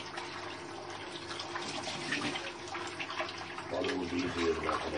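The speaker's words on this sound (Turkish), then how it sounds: "Balığımızı yıkıyoruz" Fish being rinsed under a running kitchen tap, a steady close gush of water with splashing that swells louder near the end, with no talk over it.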